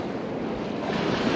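Surf breaking on muddy water in small one-to-two-foot waves, a steady broadband wash of water with wind buffeting the microphone, continuous and moderately loud with no voices.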